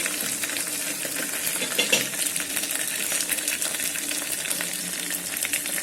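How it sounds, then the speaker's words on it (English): Ginger garlic paste fries with onions in an electric kettle, giving a bright continuous sizzle with scattered crackles and pops and a few clinks from stirring throughout. "I'm going to add some ginger garlic paste to it. Fry this for a minute."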